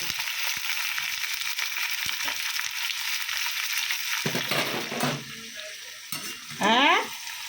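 Refrigerated fish curry reheating in a pan gives a soft steady sizzle and bubbling, then brief stirring scrapes and clinks near the end.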